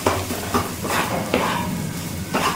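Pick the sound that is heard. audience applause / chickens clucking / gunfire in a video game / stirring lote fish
stirring lote fish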